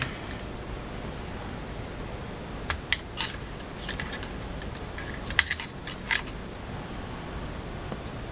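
Scrubbing along the bottom rail of an AR-15 short-barreled rifle during cleaning after 500 rounds: a quiet, steady brushing rasp with a few small metallic ticks and clicks scattered through it, and no voices.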